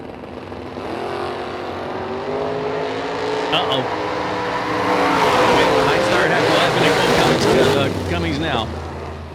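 Drag race cars launch in a double breakout race: a sustained, loud engine roar builds and holds, with tire and exhaust noise rising toward the end.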